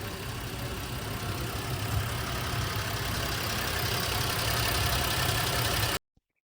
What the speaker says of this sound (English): When we plug this back in, the engine starts running better